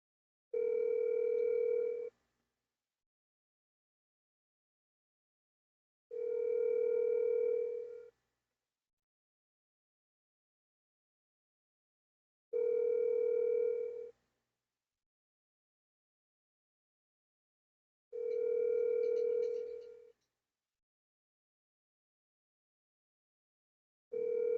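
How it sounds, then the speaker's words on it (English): A phone call rings out unanswered: five evenly spaced ringback tones, each about two seconds long with roughly four-second gaps, clear and alone against silence. "I've made my phone calls and there's no answer."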